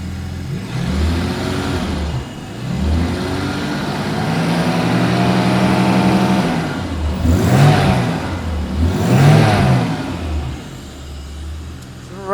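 A V12 car engine idles through a winter warm-up, a steady, close, loud rumble with a slight rise in pitch partway through, and no talking over it.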